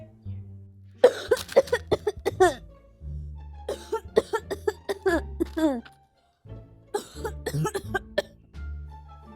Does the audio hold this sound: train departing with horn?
no